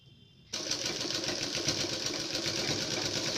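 A sewing machine stitches along one side of a fabric neckline border. After a brief quiet start the motor kicks in and runs a fast, even, close mechanical whir with rapid needle ticking, loud and unbroken.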